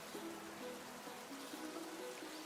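Rain in the video game Pokémon Scarlet, a constant low hiss of falling water with faint tonal background music underneath, steady and even for the whole stretch with no talking.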